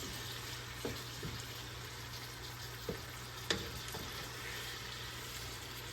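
Ground beef sizzling in a pan for a stew, a steady soft frying hiss with a few faint clicks and taps over it, no talking.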